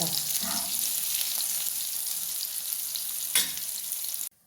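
Soya chunks frying in hot oil for a Kerala-style soya curry, a steady dense sizzle running evenly throughout, with a brief louder stir midway before the sound cuts off abruptly near the end.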